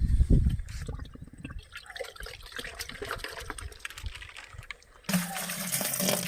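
Tubewell water is poured and splashed into a container while a fungicide spray is mixed in a potato field, with irregular trickling and dripping, a louder burst of pouring near the end, and faint voices nearby.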